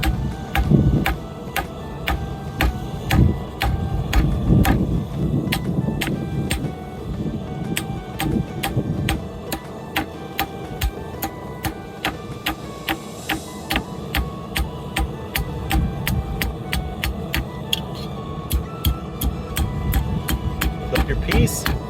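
A hammer's peen strikes hot forged steel being drawn out, in a long run of sharp, evenly spaced ringing blows at a steady quick rhythm, with a voice talking over the hammering.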